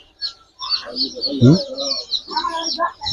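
A cluster of desi chicks peeps continuously in high, thin chirps while desi hens cluck nearby on a poultry farm, with a person talking over the flock.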